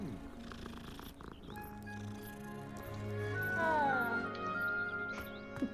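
A cat being petted in a Harry Potter video game gives a soft, continuous close purr that swells slightly in the middle, over quiet game music with a few faint clicks.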